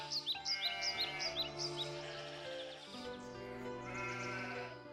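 Sheep bleat beside a well, several overlapping wavering cries near and loud over a sustained tonal bed, with faint chirp-like calls above and no talk.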